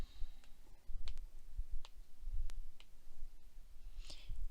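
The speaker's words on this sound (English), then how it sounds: "let me show you the calculator keystrokes while I have some space here." Calculator keys pressed one at a time during a fractions lesson, giving a sparse run of soft, close clicks at an irregular pace with no talk over them.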